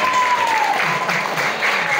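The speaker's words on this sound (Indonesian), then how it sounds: "Tepuk tangan untuk santri baru hari ini." An audience claps for newly arrived Islamic boarding school students, broad sustained applause filling the room while faint voices mix beneath.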